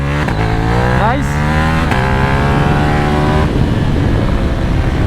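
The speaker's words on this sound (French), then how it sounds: "Qu'est-ce qu'elle craque cette moto?" Yamaha MT-07 motorcycle on a race circuit, loud engine revving through several rising gear pulls with crackling exhaust pops near the end, close and continuous.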